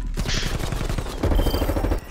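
Rapid bursts of automatic gunfire in the video game Call of Duty: Black Ops Cold War, a steady crackling fusillade that swells louder toward the end before cutting off.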